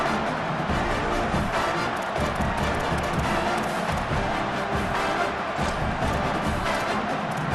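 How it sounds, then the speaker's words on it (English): A stadium crowd roars continuously during an EA College Football 27 game between Oregon and Ohio State, a dense, steady wall of cheering and noise with no clear breaks. "Crowd trying to help this defense rise to the occasion."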